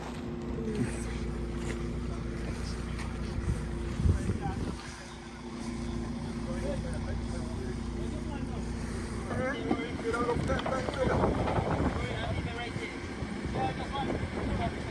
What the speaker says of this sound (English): A monster of a speedboat, a powerboat.